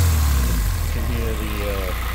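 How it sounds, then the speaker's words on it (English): A car's K-series engine idles after a cold start, its air intake giving a steady low hum with a faint whirring overtone, close and even throughout. "the classic K motor air intake more than anything"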